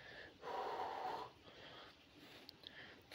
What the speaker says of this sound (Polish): Oddychamy.